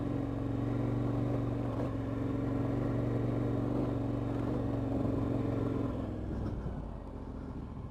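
An off-road motorcycle rides over loose gravel, its engine droning steadily and loudly up close with a constant low hum that eases slightly toward the end, with no talking.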